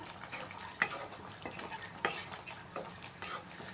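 A pan of meal maker and potato kurma with coconut powder is stirred, with a soft sizzle, clinks of the spoon against the pan and gentle scraping, close but fairly quiet, with no talking.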